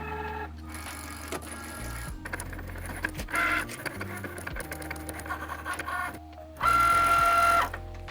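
A Cricut cutting machine slices through magnet sheet for a holiday market, giving a steady mechanical whir with shifting motor tones and a louder, higher-pitched run near the end, heard alone and close.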